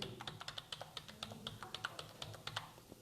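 A computer keyboard being typed on at a steady, quick pace, with individual key taps clearly audible but quiet and close, and no talking.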